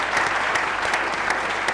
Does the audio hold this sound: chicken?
no